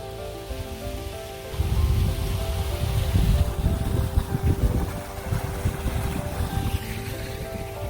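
Gusty wind blowing outdoors on a mild day in snowy high country near Capitan, New Mexico, a broad steady rush that swells and buffets loudly from about the second second onward, with no voices.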